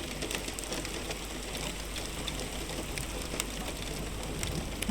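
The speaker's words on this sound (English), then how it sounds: "the sound of hailstones hitting my attic window" Steady rain patters on an attic window with scattered sharper ticks of hail, a dense constant hiss with small irregular taps close by.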